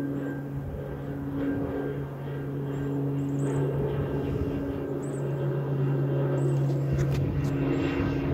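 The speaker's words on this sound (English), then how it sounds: "these planes have just been circling over at Froome Creek and this little hill spot right here" Cal Fire propeller planes circle low over Froome Creek and a nearby hill, a steady, droning engine hum with a strong tone that swells slightly as they pass overhead.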